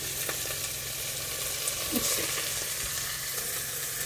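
Fresh green fenugreek leaves hit a hot pot on the stove and sizzle loudly, a steady crackling fry with a brief stirring clatter partway through, no voices.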